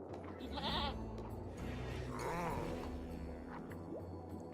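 A goat bleats twice in the Rimworld video game, short wavering cries standing out over a steady background of game music and ambient sound, with no talk over them.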